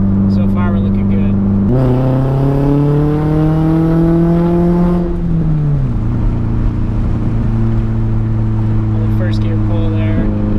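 A Nissan Skyline pulls hard in first gear, its engine note climbing steadily in pitch for a few seconds before dropping back to a lower drone, loud and close inside the car as someone talks over it.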